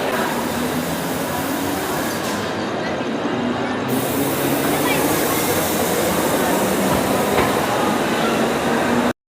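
A suburban train arriving at a station with a loud, sustained roar of wheels and carriages, brief metallic squeals, and faint crowd noise underneath.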